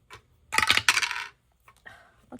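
Dice clatter and rattle across a hard surface in a short, bright burst, the tumbling clicks settling within about a second before a few faint taps follow.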